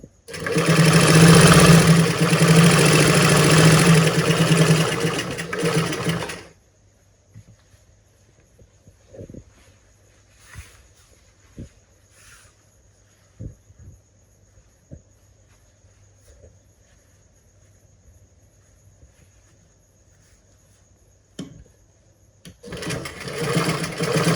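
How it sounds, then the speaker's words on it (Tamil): A domestic sewing machine runs in a loud, fast, continuous whir for several seconds while stitching the folded hem of a gathering pant leg. Quiet handling clicks and fabric rustles follow, then the motor starts again at the end. "பாருங்கள் அடுத்த கால் இதே போல் மடக்கி தைச்சி விட வேண்டியது"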